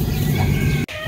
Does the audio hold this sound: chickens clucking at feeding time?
yes